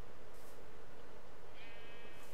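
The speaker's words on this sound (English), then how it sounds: "You're an indoor sheep now." A sheep in the video game Minecraft bleats in a short wavering call near the end, heard over a steady hiss of game background noise.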